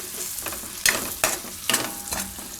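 Broccoli and cashew curry is stirred in a pan with four or five sharp scraping strokes over a gentle sizzle, close and clear.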